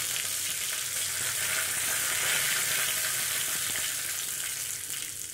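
Curry leaves crackle in hot oil with mustard seeds, a tempering for UP-style potato kadhi, giving a dense, continuous hissing sizzle close by.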